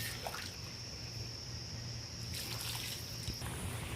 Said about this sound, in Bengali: এবার আমি ফুটন্ত গরম জলটা অ্যাড করছি